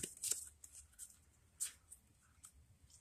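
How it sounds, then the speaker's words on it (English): Quick papery riffles of a deck of game cards being shuffled, a couple of short bursts close by with quiet gaps between. "So I grab the foe deck, give it a shuffle"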